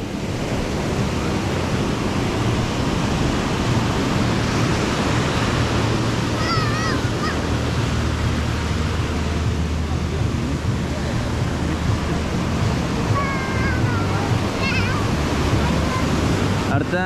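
Ocean waves wash steadily on the beach at Playa del Carmen as a continuous broad surf roar with wind, with faint distant voices or birds now and then.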